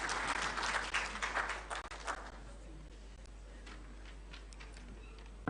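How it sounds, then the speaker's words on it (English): Audience applause welcoming a woman to the podium to give a vote of thanks at a formal state event with the President; dense clapping is strong for about two seconds, then thins into scattered claps. "Shall we welcome her with a clap"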